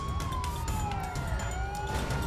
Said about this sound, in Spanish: Prendemos la sirena.